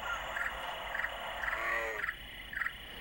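Frog croaks from a novelty amphibian-themed mouse pad: four or five short, rhythmic croaking bursts spaced about half a second apart over a steady hiss of insects and night ambience, moderately loud with no talking.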